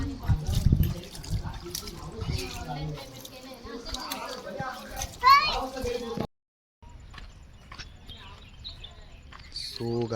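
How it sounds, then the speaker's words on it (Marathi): Children and people play and splash in water at a village outdoors in the evening, with lively splashing and shouting mixed with talk and kids' voices, a brief silent gap midway, and occasional bird calls. "हे लोक खेळतायत मस्त पाण्यात."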